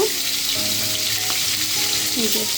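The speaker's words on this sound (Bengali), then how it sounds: "তো এর মধ্যে দেখো আট দশটা কাঁচামরিচ দিয়ে দিচ্ছি" Eight to ten slit green chillies fry in hot oil, making a loud, continuous close-up sizzle and crackle that holds evenly throughout.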